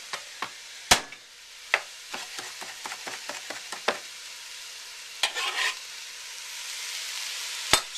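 A large garlic clove stirred into chili vegetables sizzling in a pot, heard as a series of sharp spoon scrapes and clinks over a steady frying hiss, closer and busier near the end.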